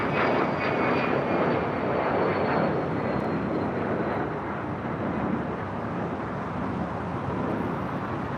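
A JetBlue jet airliner spools up for takeoff on runway 25 right at LAX, giving a steady, loud roar with broadband rushing and a faint high engine whine, heard without any voices.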